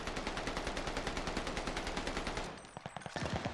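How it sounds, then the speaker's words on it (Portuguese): Gunfire in the Call of Duty Vanguard alpha: a rapid, steady stream of automatic shots at close range for most of the stretch, then a brief lull and a few scattered, sharper single bursts. "Dando tiro assim de longe?"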